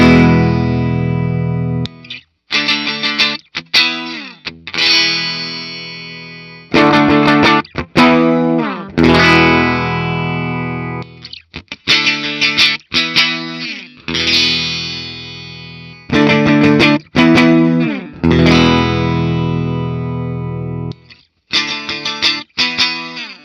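A 1979 Gibson Les Paul Super Standard electric guitar plays through distortion and effects, with bursts of chords and notes separated by short silences and ringing decays.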